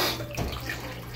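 Tap water running briefly to wet an earwax-cleaning tool, a short gushing splash that settles into a steady trickle, close and moderately loud.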